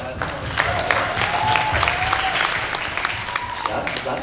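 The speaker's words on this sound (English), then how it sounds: "Round of applause for the family" Audience round of applause at a Filipino culture night stage show, dense crowd clapping with some cheering throughout, a voice briefly audible over the steady clapping.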